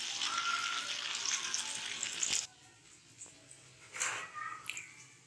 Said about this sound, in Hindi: बस इसी तरह से हमने ये सारे फ्राई करने।